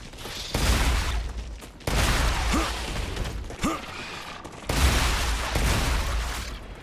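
Shotgun fire in the sci-fi game StarRupture against bugs: loud blasts in broad bursts separated by short gaps, each with a short dropping whine, plus mechanical clacks. No one speaks.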